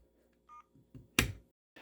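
A vintage Radio Shack handheld tone dialer emits a few short, quiet DTMF beeps, followed by a loud sharp click-like burst in an otherwise quiet room.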